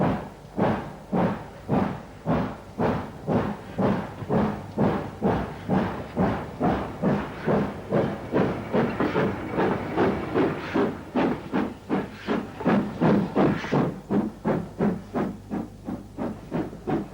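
A neglected 1960s British main-line steam locomotive with unchecked steam leaks, heard as steady, rapid, evenly spaced exhaust beats over a continuous loud hiss, close by and with no voices.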